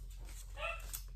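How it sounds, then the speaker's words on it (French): A pet dog lets out a single short bark partway through, moderately close, over a low steady indoor hum. "je suis désolée si vous entendez mon chien aboyer"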